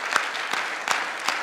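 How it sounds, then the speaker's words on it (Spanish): A church congregation gives a burst of praise applause, close and fairly loud, with a few distinct heavier claps standing out from the steady patter. "Demos un aplauso de alabanza a nuestro Señor."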